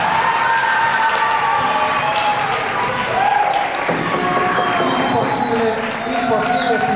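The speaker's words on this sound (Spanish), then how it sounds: "un aplauso para Vivi en el día de su cumpleaños" A room of people at a school mock jury trial gives a birthday round of applause for Vivi, dense close clapping with cheers and voices mixed in throughout.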